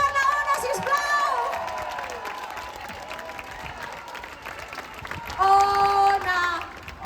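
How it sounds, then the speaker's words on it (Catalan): A children's concert audience in Calafell applauds and cheers, with sustained clapping, high shouts and voices, swelling loudest toward the end. "Un aplaudiment per la Ona, sisplau"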